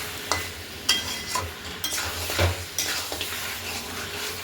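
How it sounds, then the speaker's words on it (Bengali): Mutton with pre-fried potatoes is stirred in a hot pan, giving a steady sizzle with scraping stir strokes and occasional clinks of the spatula against the pan. "সেই আলুটা দিয়ে দেবো, দিয়ে মাংসটাতে ফের কষিয়ে নিতে হবে।"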